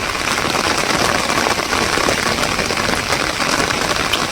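Heavy rain pouring down during an outdoor fishing outing, a dense, steady hiss of downpour filling the scene loudly and evenly, with no voices.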